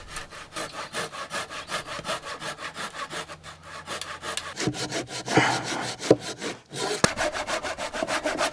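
A hand saw cuts through a wooden garden sleeper for the end pieces of a raised vegetable bed, with fast, even back-and-forth strokes, close and loud, pausing briefly before the rhythm resumes.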